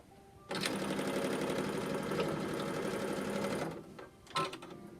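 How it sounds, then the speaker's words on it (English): A sewing machine stitches a straight seam across a fabric tote bag, running as a steady fast mechanical whir for about three seconds. It then slows and stops, followed by a short clunk. "I'm going to sew straight across right on that line."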